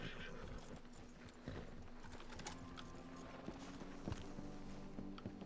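Steady clip-clop of horse hooves at a walking pace in the WildRP roleplay game, fairly close, over a constant low hum of background noise, with an occasional faint whinny.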